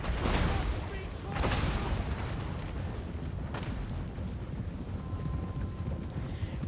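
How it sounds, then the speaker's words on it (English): Mortar fire in the Total War: Warhammer strategy game: a few heavy, booming blasts land several seconds apart over a constant roar of battlefield noise. "mortars."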